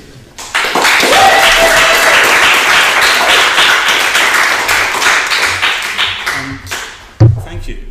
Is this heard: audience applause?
yes